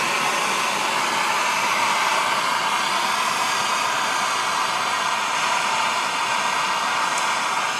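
A steady, loud roaring hiss, like a torch or heat gun, heats a metal crosshead slide part for a PM Research PM1 steam engine held in a vise, sounding continuous and close with no talking.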